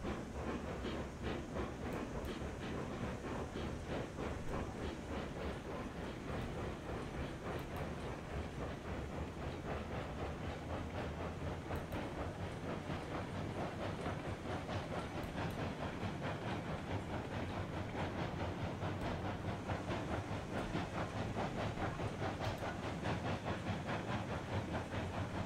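A steam locomotive in the video game RailRoads Online runs along the rails at about 10 to 13 miles per hour, with a continuous rhythmic chuffing and clickety-clack over a steady hissing rumble that holds evenly for the whole stretch.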